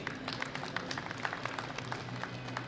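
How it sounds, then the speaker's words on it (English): An audience at the 2017 World Classic Powerlifting Championships medal ceremony applauds, a faint, dense patter of clapping spread across the hall. "Big round of applause for Farshid Soltani"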